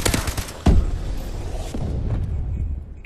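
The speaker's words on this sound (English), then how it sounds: "Friendly bombing run clearing the way" Bombing run explosions in Call of Duty: Advanced Warfare multiplayer, a heavy close boom with rattling follow-up blasts and gunfire, then fading rumble.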